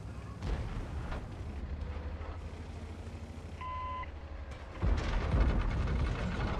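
One heavy cannon-like boom from a video game hits near the end, over a steady rumble of game noise with brief electronic beeps before it.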